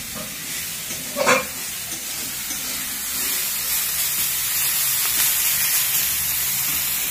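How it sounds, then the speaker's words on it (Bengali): Prawns coated with salt and turmeric frying in oil, giving a steady close sizzle and hiss with a brief louder spatter near the start, no voices. "চিংড়ি মাছে কিন্তু নুন হলুদ দিয়ে দিয়েছি, একটু ভেজে নেব"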